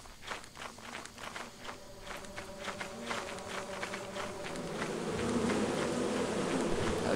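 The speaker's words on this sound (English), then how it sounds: "There's bees right here." Bees buzz steadily in the video game Lethal Company, a droning hum that grows louder and nearer, while a character's footsteps patter rapidly over it.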